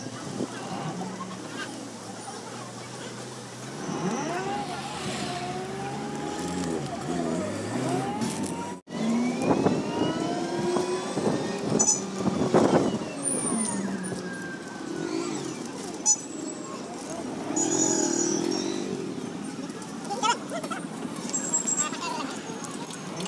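Ride in a toto e-rickshaw through busy road traffic, with passing vehicle engines, occasional horns and a steady rolling hum continuing throughout, while people talk nearby over the street noise.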